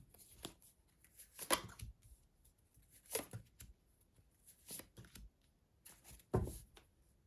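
Playing cards are gathered and shuffled close by in several short, crisp bursts separated by quiet pauses.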